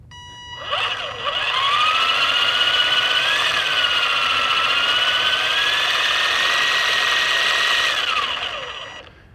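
An ARRMA Typhon 2S MEGA 4x4 RC car gives a loud, high electric whine that rises smoothly as it gently accelerates, holds steady for several seconds, then falls away as the throttle eases off.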